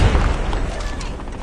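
Rapid gunfire and booming blasts from a competitive first-person shooter at a world championship match, a dense, loud barrage with no breaks.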